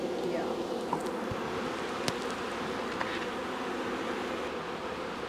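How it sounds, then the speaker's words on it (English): Honey bees buzz in a steady, dense drone around a newly arrived colony, the hum continuous and fairly close with a few sharper clicks and knocks over it. "Bees. Bees, bees, bees."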